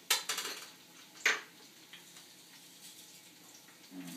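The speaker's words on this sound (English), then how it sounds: "I'm going to also add some peppercorns" Peppercorns drop into a stock pot of vegetable stock ingredients, a quick patter of small hard hits near the start and another small burst about a second later, followed by faint kitchen clatter.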